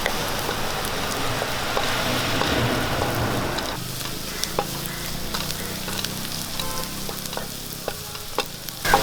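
Garlic dropped into hot oil for a masala puttu curry, a dense loud sizzle and crackle that thins into lighter spattering pops and scattered ticks, with no talking.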